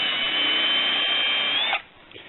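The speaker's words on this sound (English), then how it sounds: "Drill a big enough hole" A power drill bores a hole through the sidewall of an old car tyre, a steady loud whine lasting under two seconds before it cuts off abruptly, followed by faint handling noise.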